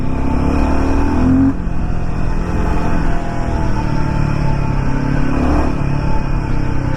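A Royal Enfield Himalayan 450 adventure motorcycle runs steadily while being ridden, its engine drone continuous and fairly loud alongside strong wind rush, with slight shifts in pitch and no talking.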